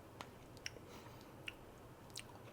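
Someone chews a homemade citrus bliss bar with coconut and strawberry, making faint, close, soft crunches and moist bites at irregular intervals over quiet background hiss.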